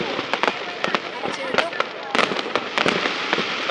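Fireworks at the Hung Kings festival in Viet Tri burst in rapid, irregular volleys of sharp cracks and pops, moderately near, with crowd chatter and voices underneath.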